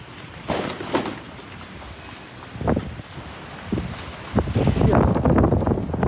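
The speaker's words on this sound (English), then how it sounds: "These storms just sneak up on us here in Vegas, and the wind." Gusty wind during a storm in Las Vegas roars against the microphone, rising and falling with a strong, sustained blast toward the end, with faint rustling underneath.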